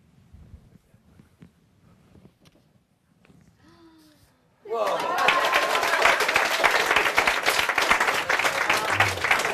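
Quiet room with faint voices, then sudden loud applause erupts halfway through from an audience after a mentalism trick, dense clapping with some cheers sustained to the end.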